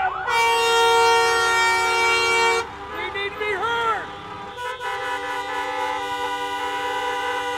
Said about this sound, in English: stop honking the horn